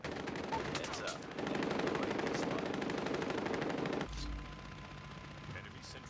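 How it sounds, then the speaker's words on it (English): Rapid automatic gunfire from a sentry gun in Call of Duty Mobile rattles loudly and continuously for about four seconds, then cuts to quieter game ambience with a low rumble. "Be advised, hostile sentry gun spotted."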